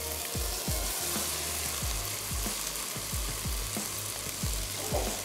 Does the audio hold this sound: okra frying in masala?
yes